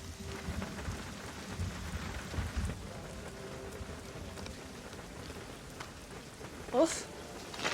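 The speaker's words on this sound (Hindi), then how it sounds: "उफ, बाहर बारिश तो देखो।" Steady rain falls outside throughout, a continuous wash of drops with a low rumble of distant thunder, and a brief sharper burst near the end.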